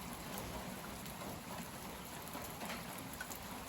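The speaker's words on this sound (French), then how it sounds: "maintenant il pleut modérément" Moderate rain falling after a cold front has passed produces a steady, even hiss of drops with no voices, constant and mid-level throughout.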